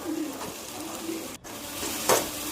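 Carrots and mixed vegetables fry in a pan for a pasta dish, a steady low sizzle running throughout with a brief dip midway and a short louder crackle near the end, no voices.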